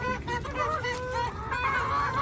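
Chickens of mixed sizes in a flock, young hens nearing laying age, cluck and chatter continuously at close range, with honk-like calls overlapping throughout.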